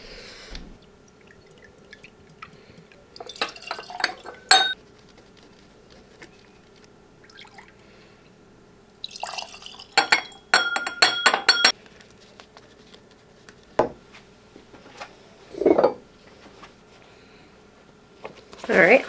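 Bourbon poured into glasses at a tasting, with bright glass clinks and short trickling pours in scattered bursts between quiet gaps, close and fairly soft.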